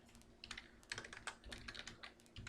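Faint, quick keystrokes on a computer keyboard as an email address is typed, irregular clicks in short bursts with no talking.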